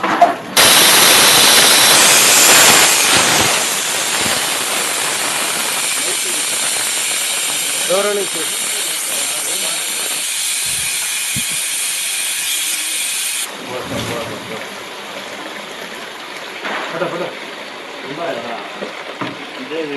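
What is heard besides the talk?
gas leaking hiss from geyser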